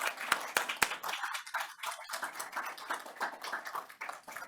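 An audience at a Hong Kong Arbitration Week seminar claps briefly, a few sharp claps first and then a steady patter of applause filling the room.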